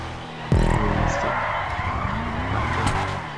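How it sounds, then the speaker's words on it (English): Cars in a GTA 5 Online stunt race drift with a sudden loud tire screech and skid, engines roaring over continuing squeals, while a voice talks over the game sound. "Cars drifting everywhere, oh my god."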